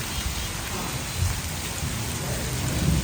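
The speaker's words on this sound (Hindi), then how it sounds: "अल्हम्दुलिल्लाह बारिश जारी जनाब।" Heavy rain falls steadily in a hissing, even roar, with a faint low rumble underneath.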